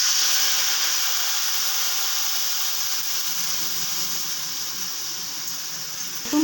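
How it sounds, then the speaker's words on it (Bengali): Spice paste hisses and sizzles steadily in hot oil after fenugreek for a bhetki fish curry, a dense bright frying sound that fades slightly with a faint clatter at the end, with no talking. "মেথিটা ভাজা হয়ে গেছে, এবার মশলাটা ঢেলে দিলাম।"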